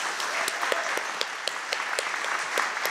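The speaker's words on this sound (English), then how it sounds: "Let's give them a round of applause." A round of audience applause for the four candidates at a town council candidates debate, moderately loud and steady, with distinct individual claps standing out in the crowd.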